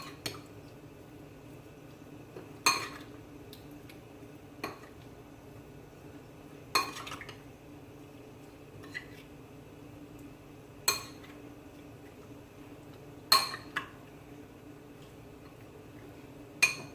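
Black pepper being stirred into steamed shrimp and mussels in a pot, heard as five or six sharp clinks of a utensil against the cookware, spaced a few seconds apart over a quiet background.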